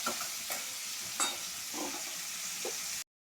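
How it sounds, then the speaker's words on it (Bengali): Small crab legs frying in hot oil, a steady close sizzle with a few soft scraping stirs over three seconds before it cuts off abruptly. "এগুলো ভাজা হোক।"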